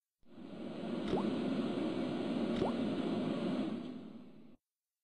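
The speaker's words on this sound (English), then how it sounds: "The cold tap's washer looked to have failed. It was just dribbling down the sink." A broken cold tap with a failed washer dribbles steadily into a sink in the Broken Sword: Shadow of the Templars game, a continuous soft watery hiss broken by two distinct drip-like plops.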